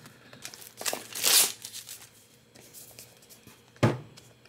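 Plastic wrapping crinkles and tears off a FOBO Bike 2 tire pressure monitor box, a burst of crackly rustling followed by quieter handling and one sharp crinkle near the end.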